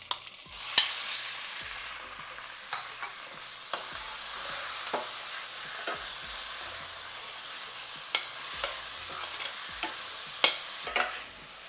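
Chicken frying with onions in a pan for a chicken stew, continuous soft sizzle with scattered sharp clicks and scrapes of a spatula stirring, close and moderately quiet, no voices.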